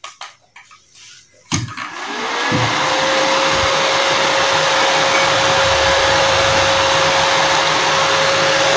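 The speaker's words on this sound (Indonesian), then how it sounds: "Oke, langsung saja kita nyalakan untuk mesinnya." An RYU RII120-2 welding machine rated at 450 watts is switched on with a sharp click, and its cooling fan spins up into a loud, steady whir with a constant whine that continues without interruption.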